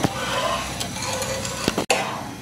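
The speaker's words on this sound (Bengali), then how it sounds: "আর সব সময় এভাবে নাড়তে হবে যেন দুধের উপরে সর না পড়ে" Milk being thickened for condensed milk is stirred steadily in a pan over medium heat, making a continuous close hiss and scrape with a couple of brief utensil knocks toward the end.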